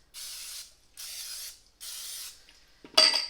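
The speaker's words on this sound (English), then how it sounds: "I like to just spray the whole tin all the way up the sides" Three short bursts of cooking spray hiss onto a baking tin in even succession, each about half a second, followed by a sharper brief spritz at the end.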